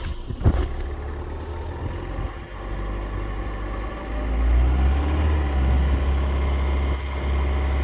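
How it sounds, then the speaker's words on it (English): A car engine is held at a constant 1900 RPM during an engine cleaning treatment. It makes a steady, loud, low hum that stays even throughout, with a slight swell partway through. "it tells me to start the engine and run it at 1900 RPM"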